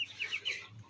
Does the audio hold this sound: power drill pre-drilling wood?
no